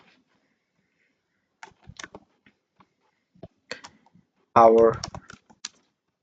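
Sparse computer keyboard keystrokes come in short irregular bursts, close and fairly quiet, as text is entered during website building in Canva, with a brief spoken word partway through.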